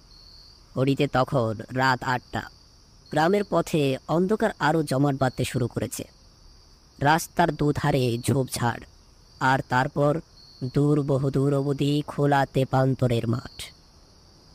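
Crickets chirp in a steady, unbroken high trill from roadside bushes along a dark village road at night, continuing faintly beneath a narrator's voice throughout.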